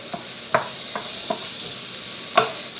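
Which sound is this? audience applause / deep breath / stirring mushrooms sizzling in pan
stirring mushrooms sizzling in pan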